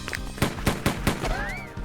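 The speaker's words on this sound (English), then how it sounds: "The burst of gunshots are emitted from Azusa's gun." Gunfire from a handgun in a vampire-hunting visual novel: a rapid burst of five or six sharp, loud shots in a quick rhythm, followed by a rising whistling tone as the shots stop.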